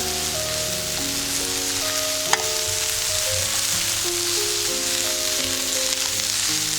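Chopped green onion and garlic sizzle in oil in a pan, a steady close crackle with a brief clink of a utensil partway through while faint tonal hum runs underneath.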